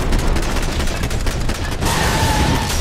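Gunfire in the video game Max Payne 3: rapid bursts of shots crackle loudly and densely, then break off partway through into a quieter stretch of game ambience.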